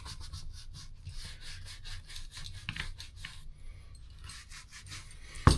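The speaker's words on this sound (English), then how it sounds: "all we're doing is rubbing this conditioner in" Conditioner is rubbed by hand into the leather of a Birkenstock Arizona sandal, producing close, repeated rhythmic scrubbing strokes at a steady pace with no voices.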